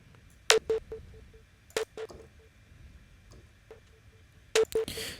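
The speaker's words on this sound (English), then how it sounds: "I added in this really, really fast delay. That's a 64th note delay" A synth plays short stabbed notes through a very fast 64th-note delay, each hit trailing into rapid, fading tonal repeats, sparse and fairly quiet with gaps between the bursts.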